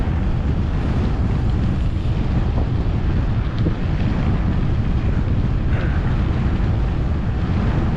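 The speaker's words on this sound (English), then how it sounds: "Feels like we got a headwind. It's coming out of the southwest." Headwind buffets a cyclist's microphone on a long-distance road race across Texas, a loud, continuous low rumble and roar with no break and no voices.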